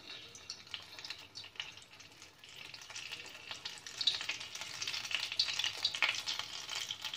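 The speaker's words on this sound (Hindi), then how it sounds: "अब हम फ्राई करते हैं। तेल गरम है।" Chicken and vegetable rolls deep fry in hot oil with a steady crackling sizzle that grows louder and busier over time, close up with no talking.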